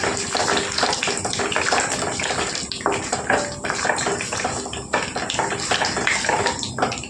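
Peanuts sizzling in hot oil in a pan, seasoned with cumin and mustard seeds for semiya pulihora, a loud continuous hiss and crackle filling the whole stretch without speech.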